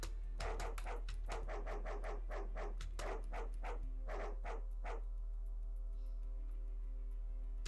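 A dog barks in a fast run of about a dozen sharp, close barks over the first five seconds, then falls silent against a steady background hum.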